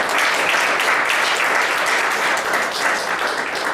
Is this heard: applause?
yes